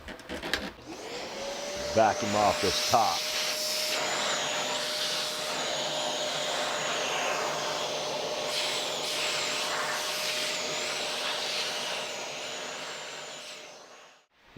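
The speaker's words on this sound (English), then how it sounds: "we're going to take the vacuum" A vacuum cleaner runs steadily over the top of a custom-built guitar during finishing, starting with a few bumps then droning evenly and close for about twelve seconds before cutting off; a voice speaks briefly near the start.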